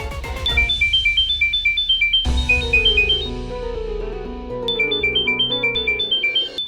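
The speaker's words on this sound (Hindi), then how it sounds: "फोन आ रहा है ना?" A phone's electronic ringtone trills in repeated melodic bursts at moderate volume, pausing briefly and starting again, with a musical background underneath in a home setting.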